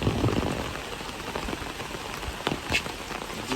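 Steady village rain keeps falling, a dense close patter of drops on surfaces, with a few sharper individual splashes standing out and no voices.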